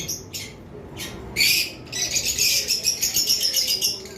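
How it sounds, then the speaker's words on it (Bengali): Two lovebirds give sharp, repeated squawks and chirps close by, starting with a few separate calls and then running into a steady rapid string of shrill calls. "এখানে দুইটা পাখি রয়েছে"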